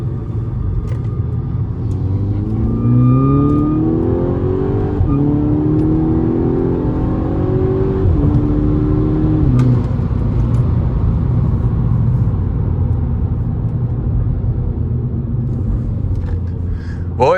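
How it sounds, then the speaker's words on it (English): A VW Golf Mk6 GTI on the road, its engine rumbling steadily and rising in pitch through several accelerations and gear changes, heard close from inside the car without talk. "just gonna take this car out for a drive"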